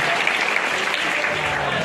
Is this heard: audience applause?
yes